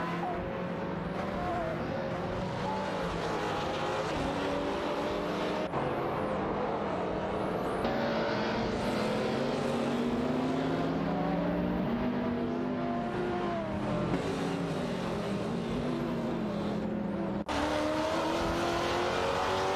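Cadillac CTS-V and BMW race cars contesting position in a racing video game, with steady droning engines that shift pitch through gear changes, sustained over nearly twenty seconds with occasional faint talk beneath.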